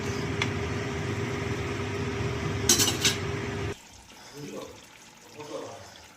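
A pot of snakehead fish and bottle gourd curry bubbling on the boil gives a steady, dense hiss and rumble for several seconds, then cuts off, leaving quieter background and a voice talking.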